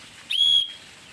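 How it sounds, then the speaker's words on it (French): A single clear, steady whistle blown to call a pet rings out close and loud for about a third of a second, then stops, with quiet surroundings before and after. "Donc je siffle, il rapplique au quart de tour"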